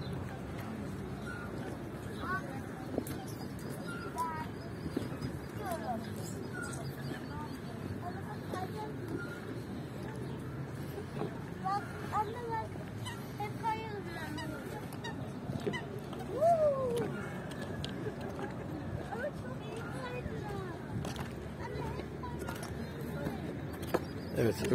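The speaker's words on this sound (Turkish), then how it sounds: "göldeki ördekleri yemliyor vatandaşlar" Outdoor ambience by a lake in Gölbaşı Park, Ankara, with scattered honking and quacking ducks being fed, people talking faintly in the background throughout.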